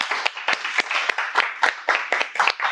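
A small group of workshop participants, gathered for a conflict workshop in Paris, applauds together in a steady, fairly close clapping that runs the whole time with a few sharper claps standing out.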